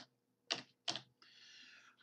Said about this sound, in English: we'll start typing Evans